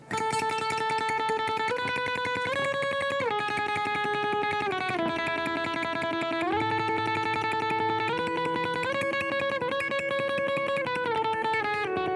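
Clean electric guitar chords ring out one after another, each sustained and changing in steady succession, dry with no echo trailing.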